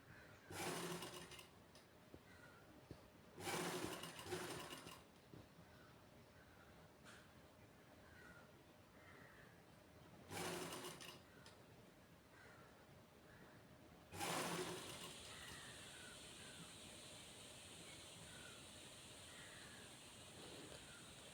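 Sewing machine stitching a princess cut blouse, sounding in several short bursts of whirring with quiet gaps, then a longer steady run at the end, all fairly faint.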